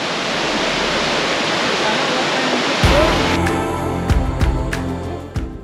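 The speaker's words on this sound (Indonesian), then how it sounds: "Air terjun ini ngempasin air dari ketinggian kurang lebih 42 meter dan lokasinya di kaki Gunung Rinjani." Tiu Kelep waterfall at the foot of Mount Rinjani on Lombok, water dropping about 42 meters, a loud continuous roaring rush that shifts in texture partway through, with some knocks and handling noise near the end.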